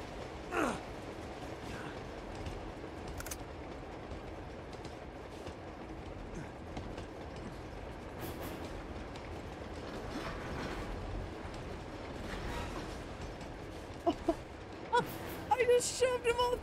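A moving train in the video game Uncharted 2 gives a continuous rattling rumble with rhythmic clacking all the way through, with occasional sharper clanks and short action sounds near the end.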